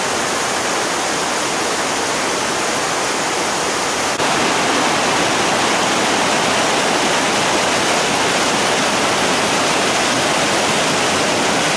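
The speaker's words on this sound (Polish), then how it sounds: "A z tyłu ten wodospad co u nas na kempingu." A steady, loud roar of a waterfall at a campsite in Norway fills the whole stretch, a dense continuous rush with no voices and a slight jump in intensity partway through.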